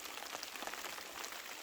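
Steady rain patters on a field of newly sprouted pesticide-free Hongsan garlic, a dense, even hiss of drops falling continuously and fairly softly with no voices.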